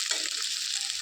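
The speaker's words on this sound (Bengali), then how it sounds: "এখানে আমি কাঁঠালগুলো অল্প অল্প করে ভেজে উঠিয়ে নেব" Jackfruit pieces fry in a pan in small batches, giving a steady, close, bright sizzling hiss with faint stirring noises underneath.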